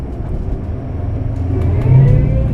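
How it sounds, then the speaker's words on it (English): Supercharged engines of a Tiara 44 Coupe boat accelerating, a close low rumbling drone that swells and climbs in pitch toward the end, with no talk over it. "There go your superchargers."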